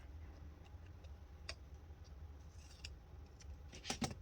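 Scissors cut a sheet of planner paper in half, making faint, scattered snips and light ticking clicks that build to a couple of sharper cuts at the end against a quiet room.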